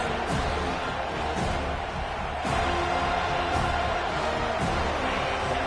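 Home crowd at an FSU versus Alabama football game, heard as a broad, continuous stadium roar of cheering and noise that holds steady throughout, with no clear voice standing out.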